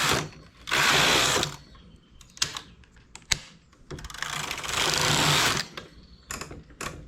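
A knitting machine knits a tubular start with comb and weight at tension setting 1, giving two loud sustained rattling carriage passes with clicks and knocks between them.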